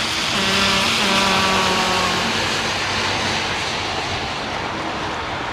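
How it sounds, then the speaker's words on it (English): Boeing 777 taxiing to park at London Heathrow, a steady loud jet engine roar with a faint droning hum through it, holding level throughout with no talk. "He's going in there, this 777. He's going to park up over there"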